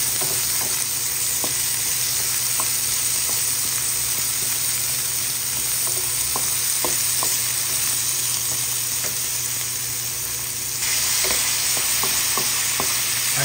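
Tomatoes sizzle and fry in a hot pan with onions and garlic, a steady loud hiss broken by repeated light clicks of a spatula stirring, with no talking.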